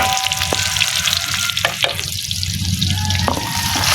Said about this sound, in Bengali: দিয়ে রসুনটা ভালো করে ভেজে নিচ্ছে